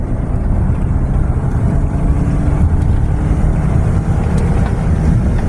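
Car engine floored at full throttle for an emissions test after an old O2 sensor, a loud sustained low roar and exhaust rumble held steady, close to the microphone with some wind buffeting.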